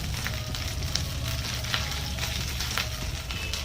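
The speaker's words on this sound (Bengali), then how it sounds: "কালো জিরে সাদা জিরে ফোড়ন দিয়ে দিলাম।" Black cumin and cumin seeds sizzle in hot oil as a tempering for a yogurt eggplant curry, a steady close crackling fry with faint pops throughout, no talking.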